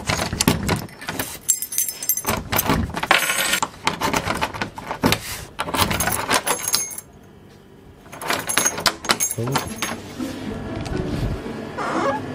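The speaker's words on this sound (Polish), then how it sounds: "znalazłem trochę klucze" Keys jangle in a set of loose, bright metallic bursts that recur through the stretch, with other handling clatter mixed in and a short quiet gap midway.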